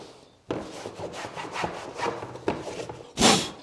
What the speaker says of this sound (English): I'm just going to rub it in. And I'm just doing this with a microfiber